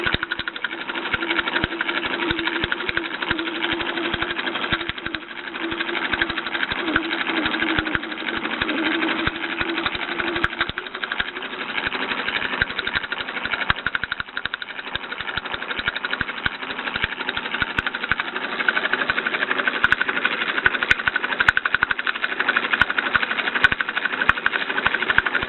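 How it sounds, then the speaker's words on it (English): Bowman M135 toy steam engine running steadily, a fast continuous mechanical chuffing and ticking close up, with faint steam hiss and no talk. "That's a pleasing chuffing sound."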